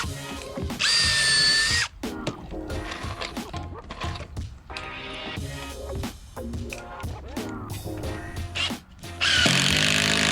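A power drill drives screws into composite decking during installation, loud bursts of whirring separated by brief pauses, with a clattering mechanical texture close by.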